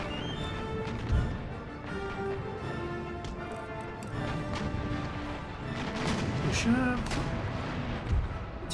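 Cannon round shot volleys during an Empire Total War naval battle, a dense rumble of repeated booms and crashes with a heavier thump near the start and more near the end, under a continuous battle din and game music.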